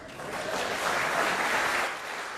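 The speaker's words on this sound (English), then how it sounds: "Give me a round of applause" Audience applause at a formal high-level discourse on global financial inclusion in Namibia, a steady wash of clapping that holds level for about two seconds, then eases slightly at the end.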